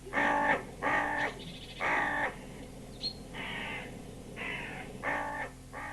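A crow caws repeatedly, harsh nasal calls in uneven bursts of one or two, fairly close against a quiet outdoor background.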